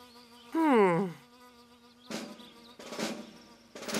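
Bees buzzing in a cartoon about little creatures, with royal bee soldiers flying around: a few loud, close buzzing bursts separated by pauses, heard alone.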